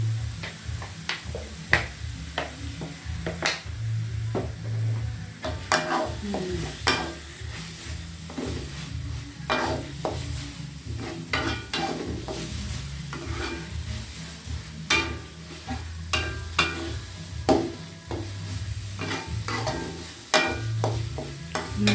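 Papaya leaf curry sizzles in a pan with added oil, a constant frying hiss broken by frequent sharp clicks and scrapes of stirring, close and steady.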